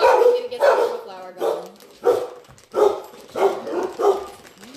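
Several dogs bark loudly and repeatedly indoors in a home kitchen, a rapid series of close, overlapping barks and yips that continue throughout.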